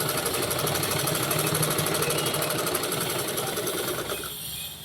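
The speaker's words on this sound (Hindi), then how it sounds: "ये हमने सिलाई लगा दी है।" A sewing machine stitches a blouse strip with a fast, even mechanical rattle that runs close and loud, then slows and fades near the end.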